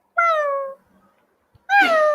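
A person's voice mimics a cat's meow twice, with a long, clear tonal meow, a pause, then a second rising-falling meow.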